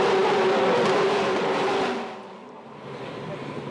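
Supercars race cars accelerating hard away from a restart in the 2014 Auckland 500, a dense, loud roar of several engines that sweeps past and fades slightly, with a commentator talking over it.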